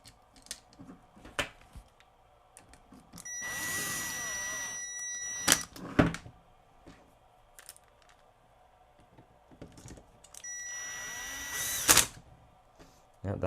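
An impact driver snugs screws on a desktop or floor fan in two short, close, whirring bursts with ratcheting hammer impacts, separated by quieter clicks and handling noises.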